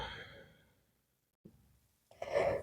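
A slow exhale during a yoga exercise: a soft, breathy release that fades to silence, followed by a faint click and a second, louder breath.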